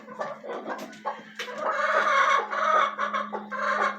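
A broody, puffed-up hen sings her broody song: a close, continuous run of low, throaty clucks and grumbling churrs that rise into a steadier drawn-out croon, heard alone.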